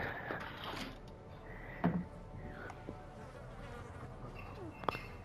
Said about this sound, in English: God, that buzzing of the flies.